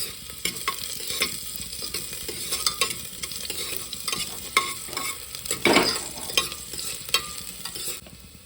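Finely chopped onion and green chilli fry in a pan with cumin and garlic, a bright continuous sizzle broken by frequent spoon scrapes and stirring clatter, close and alone.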